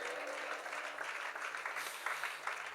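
A church congregation claps hands together during a pastor's prayer meeting, steady fast applause from many people at a soft, even level, with no voices over it.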